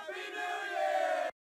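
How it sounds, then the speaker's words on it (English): Clipchamp crowd sound effect of many voices shouting Happy New Year together, a dense continuous cheer held for just over a second before cutting off abruptly. "there's crowd with Happy New Year right here"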